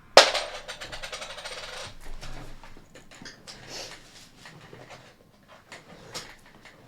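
A coin falls during a tarot card shuffle and rings sharply at the start, close and bright, fading over about two seconds, followed by quiet rustling and faint handling noises.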